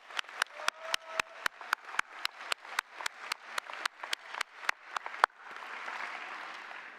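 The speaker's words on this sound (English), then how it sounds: "So one more round of applause for the class of 2025." A high school graduation crowd claps in sharp, evenly timed unison beats, about twenty in a row, then breaks into a broad, loose wash of applause.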